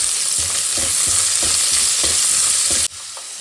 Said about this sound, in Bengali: রসুন আর আদা ভাজা হয়ে গেছে,